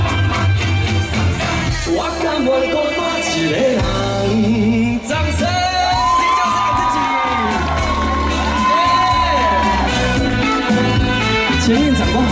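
Outdoor concert audience cheering and clapping at a summer Hakka music festival by Longtan Lake in Taoyuan, with the singer's music and shouts blending into a loud, sustained crowd roar.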